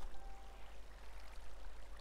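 Flowing water in the Minecraft video game, a steady soft trickling stream running continuously and fairly faint, with no voices over it.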